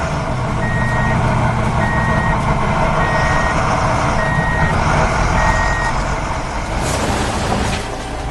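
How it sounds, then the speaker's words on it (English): A yellow truck lifts its bed while its reversing alarm beeps in a steady, evenly spaced series over a loud, close engine rumble, with a sharp hiss of air near the end. "The yellow truck is lifting its bed."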